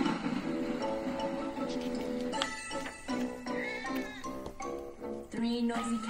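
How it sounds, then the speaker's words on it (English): Cartoon cats meowing in a spooky children's song, drawn-out meows over a steady musical backing, fairly faint and mixed with the music. "Three noisy cats go meow, hiss, hiss"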